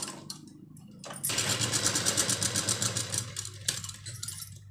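A sewing machine stitches the lining of a lined blouse, running in one steady, rapid rhythmic burst for about two and a half seconds after a quieter lead-in, close and fairly loud.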